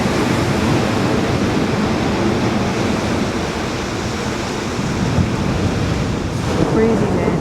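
Ocean surf on a beach in Oaxaca, a steady broad wash of breaking waves mixed with gusty wind buffeting the microphone, continuous and fairly loud with no talking.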